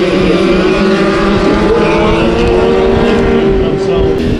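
Race cars idling and revving together at a dirt-track heat race, a loud, steady engine drone with a sustained rising tone, heard close and continuous.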